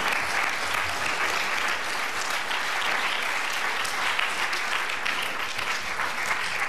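Theatre audience applause, a dense, even and sustained roar of many hands clapping throughout, with no pauses or talk over it.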